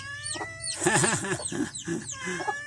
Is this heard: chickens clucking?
yes